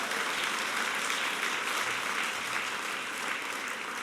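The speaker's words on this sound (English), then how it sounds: "Yeah, that's worth an applause, you're right." Audience applause at a women's health award ceremony, a broad, steady wave of clapping from a large crowd that holds evenly throughout and stands alone without speech.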